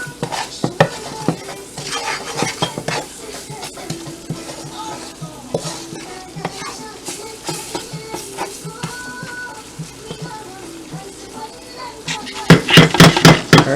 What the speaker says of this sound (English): Alright, this needs to fry up good. This is what makes it a good curry,